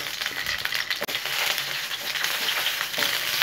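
Whole ivy gourds tip into hot oil and set off a dense, loud crackling hiss, with a brief dip early on before the sizzle settles into a steady roar.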